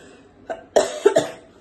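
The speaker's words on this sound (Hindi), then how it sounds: "और मुझे मेरी खांसी भी नहीं ठीक हो रही है" A few sharp coughs close by, a small one followed by a tight cluster of two or three harsher bursts, with no talking.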